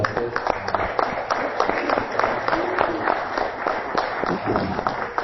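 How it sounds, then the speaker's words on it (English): An audience gives a round of applause for the event organizers at a utility officials' gathering, a steady, fairly loud spatter of many hands clapping throughout. "So maybe we give them another round of applause because they deserve it."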